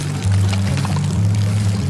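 Clear water gushing steadily from an outlet hose as a manual flap-valve pump pushes it upward, a loud continuous pouring rush with a low droning hum underneath, heard alone.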